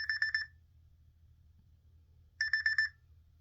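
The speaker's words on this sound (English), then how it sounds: "Sorry, I forgot to turn off my alarm." An alarm clock rings in two short bursts of rapid, high electronic beeping, separated by a pause of about two seconds, over a low steady background hum.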